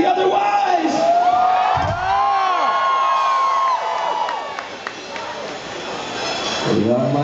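A live crowd at a rock club concert cheers, yells and whoops loudly and continuously, with shouted voices rising over the roar before the band plays.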